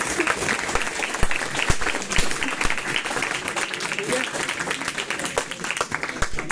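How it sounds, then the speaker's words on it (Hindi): Audience clapping in a hall, a busy stream of hand claps with sharp individual cracks standing out, steady and fairly close, with a voice speaking over it. "ताली हो जानी है, दिल खोल के।"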